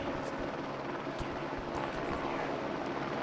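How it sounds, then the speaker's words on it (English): A Flight for Life medical helicopter passes overhead at an outdoor high school football game, its steady broadband rotor roar filling the whole stretch with faint crowd noise beneath. "I actually can't hear anything at all because there is a Flight for Life helicopter"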